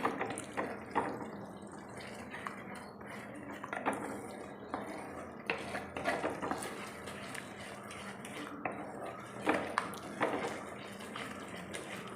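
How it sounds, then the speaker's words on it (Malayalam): A spoon stirs Kerala roasted-coconut fish curry in a pan, giving soft, irregular clinks and scrapes against the metal with faint bubbling, quiet and close, with no voices. "ഇളക്കി കൊടുക്കണം, നമ്മൾ അടിയിലൊന്നും പിടിക്കാതിരിക്കാൻ വേണ്ടി."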